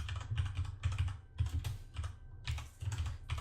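Rapid bursts of keystrokes on a computer keyboard, clicking in quick irregular clusters with brief pauses between, close and clear with no voices.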